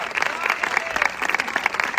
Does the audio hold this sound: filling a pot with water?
no